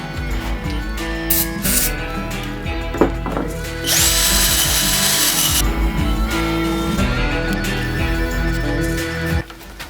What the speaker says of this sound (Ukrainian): а тепер зажав сверло 10 мм і попробуємо ним